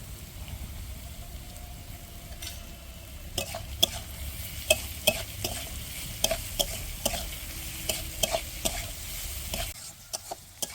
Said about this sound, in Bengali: তো এখন কিন্তু আমাদের সবজিটা ভাজা হয়ে এসেছে,